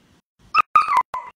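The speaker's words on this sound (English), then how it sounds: "the dog is trying to get me" A dog gives three short, sharp yips or whimpering barks in quick succession, close and loud, with silence in between.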